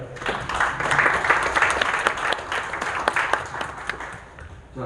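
An audience at a policy forum gives a short burst of applause for the lawmakers, a steady wash of many hands clapping at moderate volume with a faint murmur of voices underneath.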